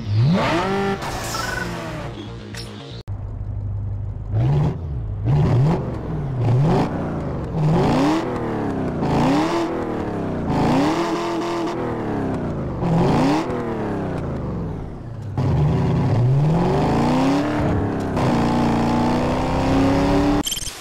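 Loud, synthetic-sounding car engines from the racing video game Need for Speed Underground 2 rev up and down repeatedly in quick cycles, shifting pitch like racing cars accelerating through gears, with occasional tire squeal.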